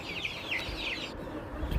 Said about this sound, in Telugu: ఇప్పుడు మీ ముందుకు కొత్తగా ఒక 28 కోడిపిల్లలు తేవడం జరిగిందండి. మెట్టాటం జాతికి సంబంధించిన కోడిపిల్లలండి.